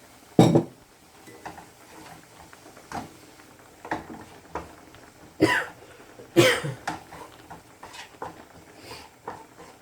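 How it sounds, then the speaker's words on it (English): Repeated harsh coughing fits from frying-pepper fumes, some loud and close, scattered irregularly among faint kitchen clinks and clatter. "When you do, the fumes get into your throat and it makes you cough."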